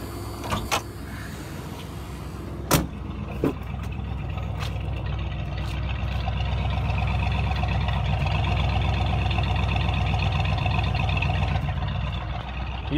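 A Ford LTD's engine idles steadily up close after an idle adjustment, a smooth low rumble with a few clicks and knocks from the engine bay near the start.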